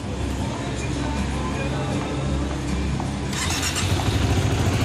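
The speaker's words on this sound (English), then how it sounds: "first start of the WR" A Yamaha WR250R motorcycle fires up for its very first start at a Yamaha dealership in Melbourne, its engine churning loud and steady throughout, with a brighter revving surge near the end.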